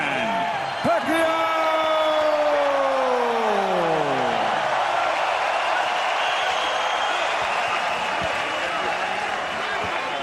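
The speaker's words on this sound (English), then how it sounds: "the crowd's certainly into it" Boxing arena crowd roars and cheers loudly and continuously for Manny Pacquiao, Filipino champion, at his bout with Brandon Rios, a dense sustained wall of voices with whoops and a ring announcer's voice trailing off over the top early on.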